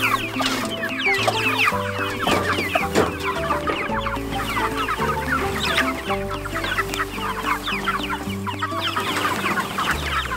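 Meat chickens cluck steadily on a farm pasture, a dense, continuous chorus of overlapping clucks and short calls at moderate level, with no talking.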